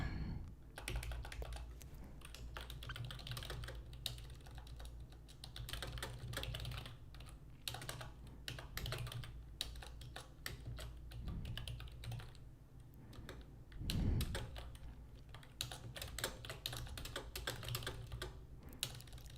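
Steady typing on a computer keyboard, with rapid continuous key clicks close by for the whole stretch and one heavier thump near the end, heard alone without talk.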